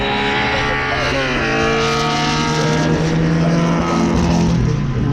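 Historic Brabham Grand Prix race car at Donington Park during qualifying, a loud, sustained engine note whose pitch climbs and shifts as it passes close by, with a commentator talking over it.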